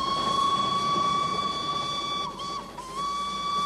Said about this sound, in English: the delightful miniature steam-powered train, which takes us on the 8-hour journey from Siliguri to Darjeeling